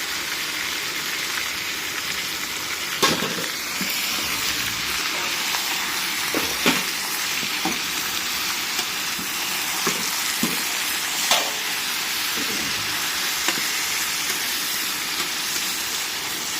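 Ginger fries in a pan with a steady, moderately loud hiss of sizzling oil, broken by occasional clicks and scrapes of stirring, with no talk.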